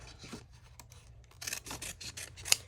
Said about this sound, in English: So this one here I'm going to cut one out square